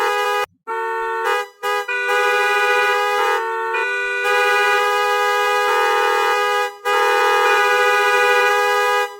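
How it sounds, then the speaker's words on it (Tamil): A loud, sustained vehicle horn honks almost continuously, broken by a few short gaps, with a steady harmonic tone and no talk. "அதுதான் வாகனங்கள் எழுப்பும் ஒலி."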